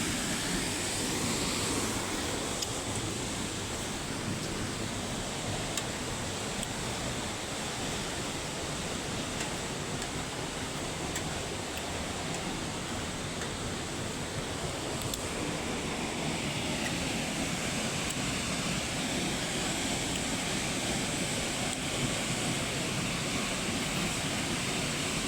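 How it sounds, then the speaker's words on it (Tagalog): A waterfall at a tourist spot roars as a dense, steady wash of rushing water that stays loud and even throughout, with no speech over it. "Ayan po yung falls."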